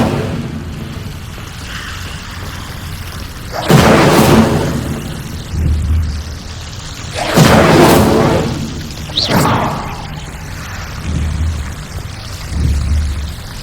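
Fire spells cast in the Hogwarts Legacy video game: two big whooshing bursts a few seconds apart, each swelling and fading, with softer thumps and crackles between them and no talk.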